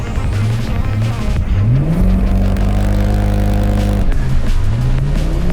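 An Audi S4 car launches hard from a standstill, its engine revving up loudly through rising sweeps with gear changes, close and unbroken by speech.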